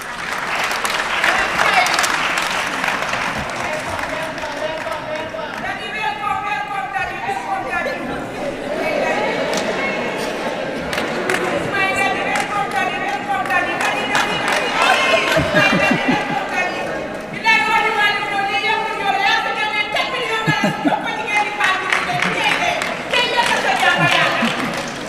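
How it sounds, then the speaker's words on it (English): An audience at the official opening of an international UCLG training at Sir Dawda KCC gives sustained applause for the head of the French mission to the Gambia, steady clapping over chatter and voices throughout. "A round of applause for him."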